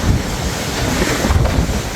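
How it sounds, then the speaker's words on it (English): Strong wind roars and buffets the microphone over the rush of rough sea waves aboard the cruise ship P&O Arcadia, a loud continuous blustery noise with no talking. "It is very windy."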